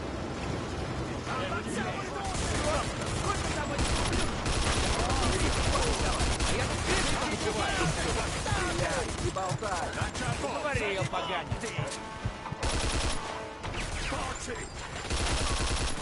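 Rapid bursts of gunfire crackle almost continuously through a video game shootout in Mafia 2, loud and dense, with voices talking over parts of the firefight.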